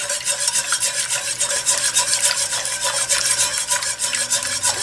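A flour roux for gravy churns in a mixer vessel, giving a continuous close scraping, rasping whir with a steady pulsing rhythm and a low motor hum underneath.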